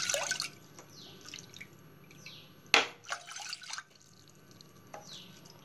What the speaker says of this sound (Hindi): तो 4 कप पानी डालेंगे हम इसमें।